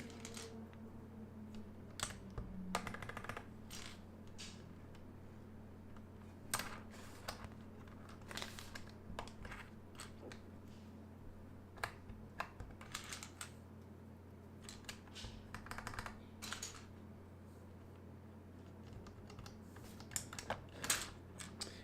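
Keys on a mechanical Alps keyboard click in irregular bursts of quiet taps over a low steady hum, with small pauses between runs of strokes and no voices.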